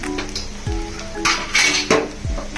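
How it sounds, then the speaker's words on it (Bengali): A spoon stirs turmeric into a thick, chutney-like mixture in a cooking pot, giving several sharp metallic clinks and scrapes against the pot at uneven intervals, fairly close and clear with no talking. "তো এখন আমরা এটা নেড়ে দিব এই চাটনির মতো"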